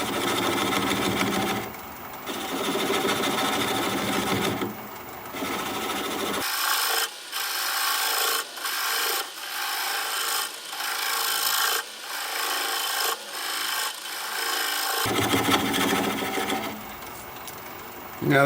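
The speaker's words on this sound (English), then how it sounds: "I'm going to turn the speed down to about 400 RPM and I'm going to switch to a swept back bowl gouge" A swept back bowl gouge cuts a wooden bowl spinning on a lathe at about 400 RPM, giving a rough, scraping hiss in repeated bursts with brief pauses and a steady low motor hum underneath, close and fairly loud.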